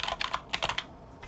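Rapid keystrokes clatter on a computer keyboard in a quick irregular burst, with a few more taps trailing off after a short pause; close and fairly quiet.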